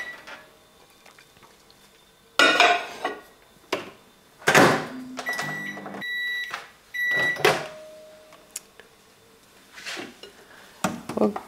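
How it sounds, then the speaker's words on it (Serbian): A microwave oven is loaded with a salted, peppered stuffed potato. Loud clunks of the door and dish handling alternate with a short series of electronic beeps and quieter gaps, all close by. "I da ga stavimo u mikrotalasnu na 6 do 8 minuta"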